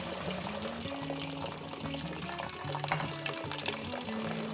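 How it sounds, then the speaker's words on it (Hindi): Black masoor lentils are washed in water, with sloshing, pouring and splashing sounds close by, over a steady tonal background. "तो चलिए पहले दाल को धो लेते हैं।"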